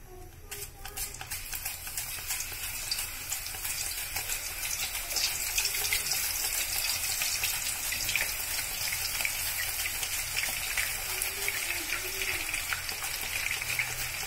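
Potato slices shaved straight into hot oil for homemade chips, a dense, steady sizzle and crackle that stays loud and close throughout after a brief clatter at the start, with no talk.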